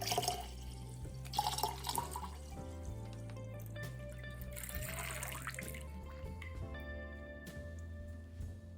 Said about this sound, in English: let's go ahead and add a gallon to the hydro gallon.